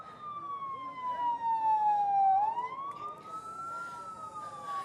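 An ambulance siren wails during an emergency in the Palestinian-Israeli conflict, one continuous tone sweeping down and then climbing back up, loud and fairly near, over a background of street noise and distant voices.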